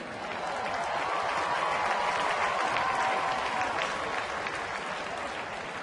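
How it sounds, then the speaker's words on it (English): A sellout baseball crowd of about 36,000 in Pittsburgh gives a batter a sustained ovation, dense applause and cheering roaring steadily and loudly throughout with no breaks. "Should get a nice ovation as he comes to the plate."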